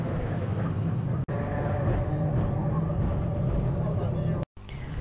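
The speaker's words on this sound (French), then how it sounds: "nous attrapons le tramway, ligne 1" Porto's line 1 tram rumbles along its rails with a steady, close mechanical clatter and hum, broken by two brief dropouts.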